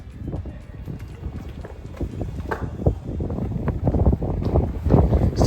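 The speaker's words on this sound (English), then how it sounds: "You guys feel that wind? It's coming right through this corridor." Wind gusts through the narrow canyon corridor of Devil's Hall in the Guadalupe Mountains, a heavy, continuous low buffeting on the microphone with what sounds like footsteps crunching underneath.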